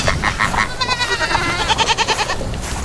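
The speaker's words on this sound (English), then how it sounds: "I hear a goat yelling in the barn" A goat stuck inside a barn bleats repeatedly in loud, wavering cries, one after another at close range, over a steady background hum.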